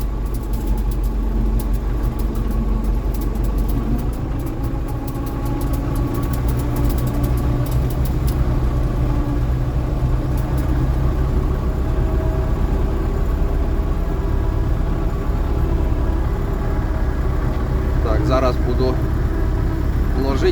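An OLIMP-2000 PRO front loader on a tractor runs with a steady low engine drone while its bucket is lowered, the hum continuous and moderately loud throughout, with people talking over it.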